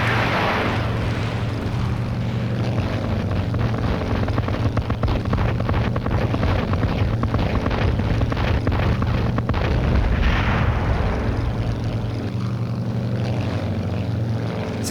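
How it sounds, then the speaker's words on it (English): Bomblet explosions in a video game merge into a dense, continuous roar of overlapping blasts, with heavy low rumble and crackle at a constant loud level and no voices. "Seems like the size of the explosion should not be that big for each of those little bomblets"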